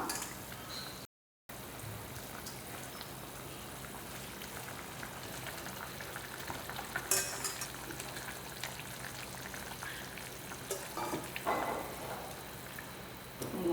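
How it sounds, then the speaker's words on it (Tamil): Fish curry with anchovies and raw mango boils steadily in a pot, giving a soft continuous bubbling hiss with faint pops, with no voices. "இப்போ மீன் குழம்பு வந்து நல்லா கொதிச்சுக்கிட்டு இருக்கு"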